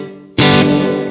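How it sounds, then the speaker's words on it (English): An electric guitar played through a Blackstar Amped 1 pedalboard amp with its reverb turned up bursts in loud after a short quiet lead-in and rings on as a full, washy sustained chord. "And I should talk about the reverb real quick."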